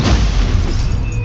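A Stupefy stunning spell strikes in Hogwarts Legacy, a loud, dull booming impact that fills the short moment with a low rumble, no talk over it.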